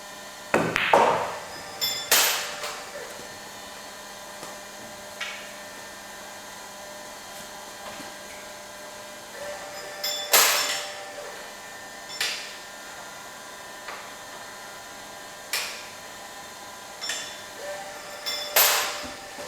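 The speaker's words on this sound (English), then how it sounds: "Let me show you what I do when I anneal brass." A case-fed annealing machine works through rifle brass, giving sharp metallic clinks and clunks at irregular intervals over a low steady mechanical hum, fairly close and loud.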